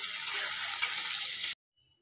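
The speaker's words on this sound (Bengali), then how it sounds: "আলুগুলো ভাজা হচ্ছে" Potatoes frying in oil in a home kitchen give a steady, bright sizzling hiss for about a second and a half, then it cuts off abruptly into silence.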